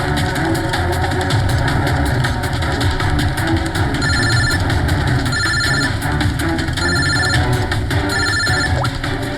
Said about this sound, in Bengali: ফোন আসছে দাদা